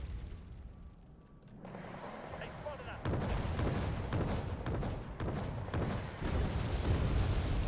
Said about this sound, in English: That was a better airstrike.